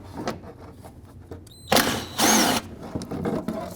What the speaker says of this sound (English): there's a 10 millimeter bolt that has to be removed